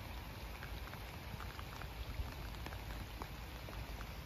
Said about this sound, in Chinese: 天公作美，下雨哈，水里面有氧气